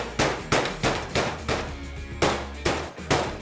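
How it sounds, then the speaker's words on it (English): A hammer pounds butterflied bread on a cutting board, with about ten loud, sharp thuds repeating at a steady, close rhythm. "Put the hammer to it."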